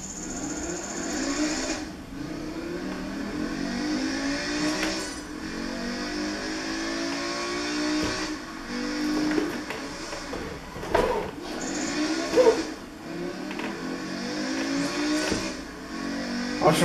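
A BMW M5 E60 accelerates hard through repeated gear changes, its engine rising steadily in pitch with brief dips at each shift, heard from inside the car as a loud, continuous drone with no talk.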